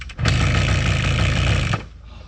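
A kickstarted Kawasaki motorcycle engine catches and runs in a loud, rapid, buzzing clatter for about a second and a half, then cuts off abruptly into quiet.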